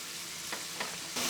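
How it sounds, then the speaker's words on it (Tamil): Onions sauté in ghee with whole garam masala, a steady frying sizzle with a few soft stirring scrapes, close and constant, with no talk. "வெங்காயம் பார்த்தீங்கன்னா நல்லா பொன்னிறமாக வர வரைக்கும் நல்லா வதக்கணும்."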